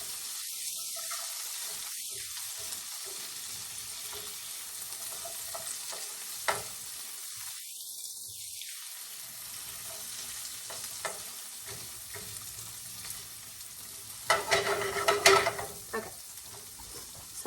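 Bacon grease sizzles steadily in a pan while a rubber spatula stirs it, with soft scraping and a burst of louder clattering and crackling near the end.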